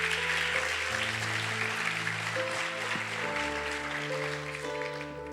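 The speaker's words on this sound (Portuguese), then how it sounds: "Você pode aplaudir o nome do Senhor?" A church congregation applauding at a Sunday morning service, a steady broadband wash of clapping filling the room, with sustained organ or keyboard chords playing underneath throughout.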